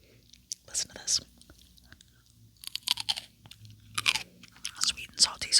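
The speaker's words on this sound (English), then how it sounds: "Listen to this crunch, it's so good." Crunchy daikon radish kimchi over rice being chewed close to the mic: bursts of wet, crisp crunching in uneven bites, loud and near, separated by quiet pauses, with a woman whispering in between.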